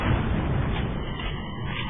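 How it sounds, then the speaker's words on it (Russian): A sticky bomb blows up on the character Mercy in a competitive video game match, a loud, dense, muffled blast that rumbles on and slowly fades over two seconds. "Липучку взрывает Мерси на бомбе."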